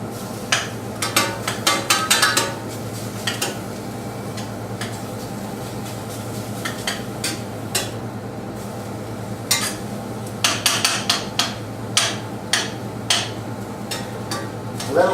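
Minced meat is broken up in a frying pan with a utensil in a chopping motion, giving repeated sharp taps and scrapes in uneven bursts over a constant low sizzle.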